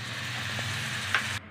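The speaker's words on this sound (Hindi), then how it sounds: "मसाले भून गए, अब इसमें हम डाल देते हैं पानी।" Water hits spices frying in hot oil, including turmeric and Kashmiri red chilli powder, for street-style kachori potato curry, giving a steady loud sizzle that cuts off abruptly near the end.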